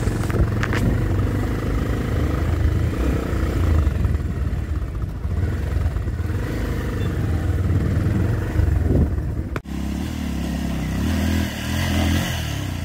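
A scooter engine labours up a rough, rocky hill road on a family hike to a mountain temple, a steady loud drone with clattering over bumps that cuts off abruptly near the end, leaving a lower idle hum.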